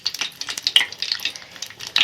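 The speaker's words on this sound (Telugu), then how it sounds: "లవంగాలు, యాలకులు తాలింపు చేసుకోవాలి" Cloves and cardamom, with stone flower and bay leaf, sputtering as they temper in hot oil, a close crackling sizzle with quick bursts of popping and light stirring throughout, no talk.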